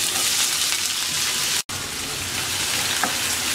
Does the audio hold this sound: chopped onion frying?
yes